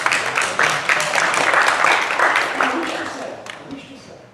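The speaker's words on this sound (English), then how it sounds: "Let's give him another applause." Audience applause at a civic centre speaking event, a dense crowd clapping loud and steady before tapering off toward the end.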